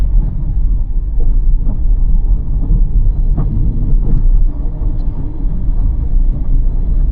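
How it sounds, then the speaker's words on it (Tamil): Car cruising in third gear through Chennai city traffic, a loud, constant low engine and road rumble with wind noise, broken by a few faint knocks. "தேர்ட்லேயே க்ரூஸ் பண்ணுறேன்"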